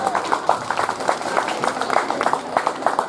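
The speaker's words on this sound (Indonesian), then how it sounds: "beri tepuk tangan yang meriah untuk Kezia." An audience at a literacy event applauds in a steady burst of clapping that lasts about three seconds, with overlapping hands at moderate distance.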